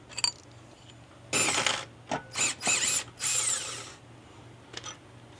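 A ratchet removes shock bolts on a 2024 Nissan Z during an air suspension install, heard as several loud bursts of rapid clicking in short runs with pauses between them.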